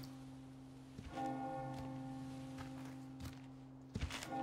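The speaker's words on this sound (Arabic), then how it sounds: "وقع الجرس" A church bell tolls in the Resident Evil 4 Remake village, several deep ringing strikes whose hum lingers between them, with faint footsteps in the background.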